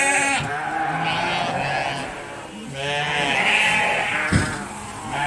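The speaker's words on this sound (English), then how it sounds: "I'm just putting all the sheep away for the night." Sheep on a farm being penned for the night bleat repeatedly, several overlapping calls close by in an outdoor setting with a faint background hum and a short knock near the end.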